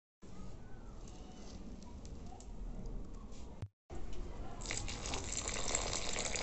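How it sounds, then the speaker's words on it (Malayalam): Water poured from a can or hose onto dry potted plants in a balcony garden, a steady gushing splash that briefly stops and then resumes louder, with faint birdsong behind. "കുറച്ച് വെള്ളം ഒഴിച്ചു കൊടുക്കുക, കാരണം ഭയങ്കര ഡ്രൈ ആയിട്ടല്ലേ ഇരിക്കണേ"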